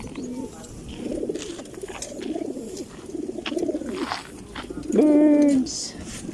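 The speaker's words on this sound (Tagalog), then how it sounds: "Daming ano birds, oh." A large flock of competition racing pigeons coos in soft, repeated, overlapping calls close by, with one louder call near the end and quiet talk in the background.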